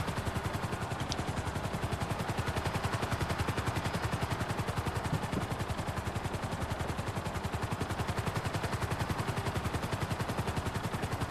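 Dense rapid gunfire rattles continuously with a whirring helicopter drone underneath in Grand Theft Auto V, loud and steady throughout with no pauses.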